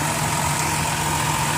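The 3.8-litre V6 of a 2007 Dodge Caravan mobility van idles under an open hood, a steady, even hum with a faint whine, close and continuous with no voices.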